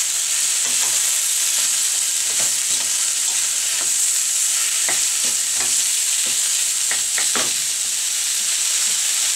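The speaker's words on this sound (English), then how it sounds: "You hear that sizzle?" Mushrooms and onions sizzle loudly in a frying pan, a constant bright hiss broken by scattered pops and occasional scraping stirs, with no talk.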